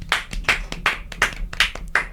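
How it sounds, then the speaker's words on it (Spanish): Slow rhythmic handclaps, about seven sharp claps spaced evenly, loud and near, with no talking. "Aplausos."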